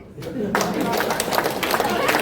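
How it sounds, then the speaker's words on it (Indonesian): An audience at a hajj pilgrim send-off ceremony in East Flores breaks into applause, a burst of dense clapping rising sharply and holding steady, with voices mixed in. "Tepuk tangan."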